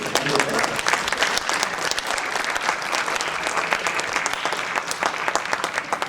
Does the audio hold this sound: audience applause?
yes